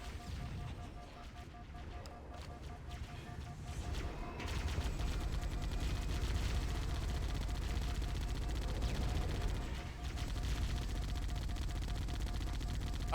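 Rapid gunfire from a weapon in Halo 1 rattles in dense, continuous bursts, loud and close, swelling midway and sustained with little pause.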